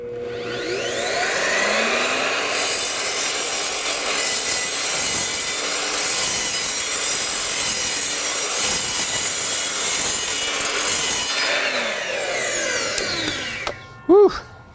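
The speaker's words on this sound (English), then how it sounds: "we're going to start the saw cutting, and we're going to roll the blade in" A 10-inch power saw blade cuts through a PVC decking board in one long, steady, loud rasping pass of about ten seconds, then the motor spins down and stops.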